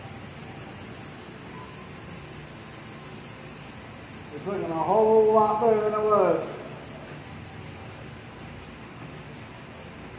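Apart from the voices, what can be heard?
hand sanding with 220-grit sandpaper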